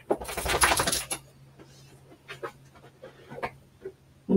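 A pet dog pants close by in a quiet room, a quick burst of breathing up front followed by softer, scattered panting and small clicks.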